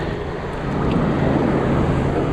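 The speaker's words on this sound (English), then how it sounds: "these waves are what we're up against today." Ocean waves rolling onto a windy beach under yellow-flag surf conditions, a steady broadband roar with wind buffeting the microphone and a gradual swell in loudness, no voices.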